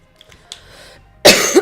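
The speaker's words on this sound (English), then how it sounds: "I'm sorry about just coughing right into the mic." A single harsh cough bursts right into a close microphone, loud and abrupt after a few faint rustles and a short breath.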